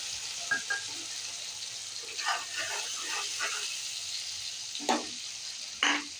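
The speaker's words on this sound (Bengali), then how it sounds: "এখানে আছে পেঁয়াজ, আদা, রসুন আর কাঁচা লঙ্কা বাটা দিয়ে দেবো।" Onion, ginger, garlic and green chilli paste sizzles softly in hot oil, a quiet steady hiss broken by scattered scraping and stirring knocks and a couple of sharper clinks near the end.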